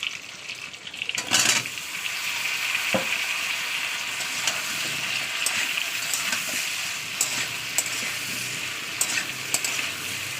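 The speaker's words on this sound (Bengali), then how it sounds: "কলাগুলোকে তেলের সঙ্গে এক মিনিট মতো ভেজা করাবো" Plantain pieces sizzle steadily in hot oil for a prawn and potato curry, a dense continuous frying hiss with a burst as they go in and occasional clicks of stirring, close and loud with no talk.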